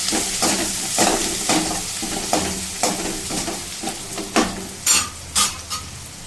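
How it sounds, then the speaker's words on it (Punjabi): Chopped chilies frying in hot oil, a steady sizzle punctuated by repeated scraping stirs of a spoon against the pan, with a few sharper metallic clinks near the end. "ਇਹਨੂੰ ਵੀ ਤੇਲ ਦੇ ਵਿੱਚ ਦੋ ਮਿੰਟ ਵਾਸਤੇ ਫਰਾਈ ਕਰ ਲਾਂਗੇ"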